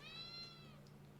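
A house cat gives a single short, faint meow with a rising and falling tone, heard alone in a quiet room.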